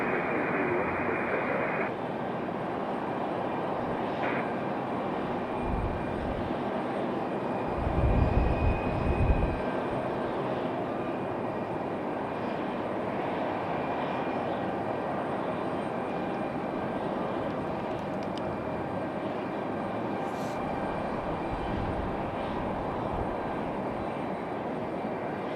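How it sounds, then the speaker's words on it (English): American Airlines jet arriving from New York at Raleigh Durham airport, a faint steady engine rumble with a brief low gust of wind noise partway through and no talk. "this American coming in from New York"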